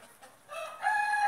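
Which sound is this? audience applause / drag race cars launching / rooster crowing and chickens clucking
rooster crowing and chickens clucking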